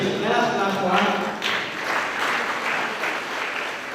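Audience at a graduation ceremony applauding a graduate, a brief burst of clapping that swells and then holds steady, with murmuring voices mixed in beneath it.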